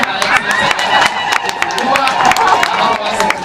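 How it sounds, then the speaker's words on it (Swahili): Applause from an audience at a Kikuyu-language gathering, many hands clapping in a dense, steady patter with crowd murmur beneath. "tuweze tena kurudia tena makofi"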